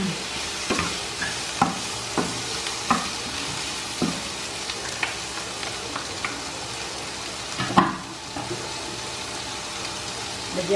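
Chopsuey vegetables frying in a pan, a continuous close sizzle with intermittent clinks and scrapes of a spatula as they are stirred, a louder clatter near the end.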